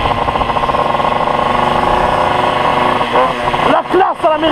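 A Motobécane chopper motorcycle engine running close by with a steady, buzzing rattle and slight revving toward the end, while a voice speaks over it.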